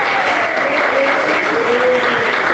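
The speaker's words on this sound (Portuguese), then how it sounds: "palmas e agradece a Deus." Congregation clapping steadily during a church sermon, a continuous wash of applause with a faint voice or tone threading through it.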